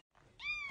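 A house cat gives a single short meow near the end of a brief quiet stretch, fairly close and clear, with no talking over it.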